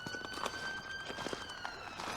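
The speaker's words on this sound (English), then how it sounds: "hear the crunch of the stones" Footsteps crunching over loose stones outdoors, a steady series of gritty steps at walking pace, moderately close, over a faint windy background with no talking.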